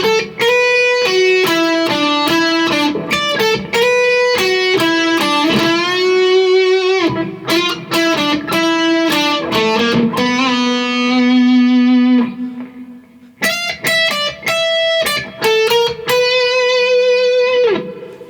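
Electric guitar plays the next melodic line of a song from Deltarune, a steady run of clear picked notes with sustained tones and a brief pause near the end, loud and alone without talk.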